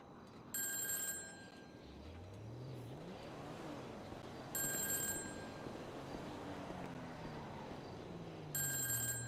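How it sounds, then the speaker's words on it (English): Three bursts of a phone ringtone in GTA 5 Online, sounding at the start, middle and end over continuous car engine noise and revving from the game. "Would you answer the phone, please?"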